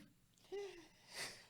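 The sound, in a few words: small sneeze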